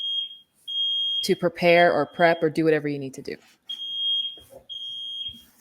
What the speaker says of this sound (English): Sorry, that's the fire alarm.